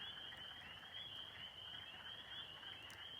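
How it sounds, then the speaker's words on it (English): Frogs calling at night at a campground in Hartman Creek State Park, a dense continuous chorus of quacking-like croaks, steady and fairly faint in the dark. "It almost sounds like ducks quacking, but they're frogs"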